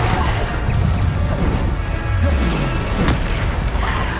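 Bombarda spell explosions in the Hogwarts Legacy video game: heavy, booming blasts that land again and again over a steady low roar, loud and close, with no voices.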